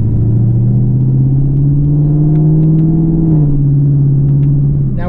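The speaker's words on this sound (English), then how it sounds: "it's a very, very good noise that it makes, that 5-liter naturally aspirated V8" A deep Lexus LC 500 5-liter naturally aspirated V8 exhaust drones loudly at a low, steady pitch, then dips slightly as the engine settles into a lower rumble while cruising in 10th gear around 1200 RPM.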